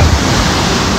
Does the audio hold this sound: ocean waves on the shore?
yes